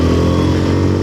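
A motorcycle engine strains while climbing uphill, giving a brief, loud, close revving drone with a steady pulse.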